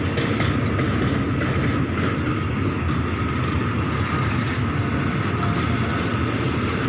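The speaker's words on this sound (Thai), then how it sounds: "642 นะครับ ด่วนน้ำมันใสสีขาว เชียงใหม่ นครลำปาง บ้านปอกแป๊ก" Express oil tanker train 642, carrying clear white fuel, rumbles past close by in a loud, continuous roar with rhythmic wheel clatter over the rails, and no one speaks.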